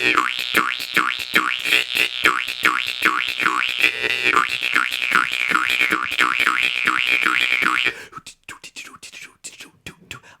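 Jaw harp twanged in a fast, driving techno-like rhythm, a steady run of bright boinging pulses up close for about eight seconds, then breaking into sparser, choppier plucks and breathy sounds at the end.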